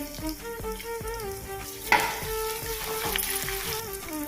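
A tempering of chana dal, chopped onion, asafoetida, garlic and dry red chillies fries in hot oil with a continuous crackling sizzle, a brief sharper spatter partway through, and a steady tonal hum underneath.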